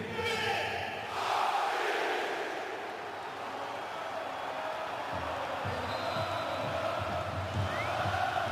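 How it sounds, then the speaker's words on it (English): Football supporters at a DFB-Pokal cup match between Eintracht Frankfurt and RB Leipzig cheer and celebrate, a broad, steady stadium roar with whistles and shouts rising and falling throughout. "Now they can all cheer and laugh and celebrate."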